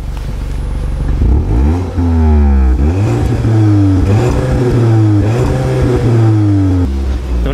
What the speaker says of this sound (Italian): facci sentire 2 sgasate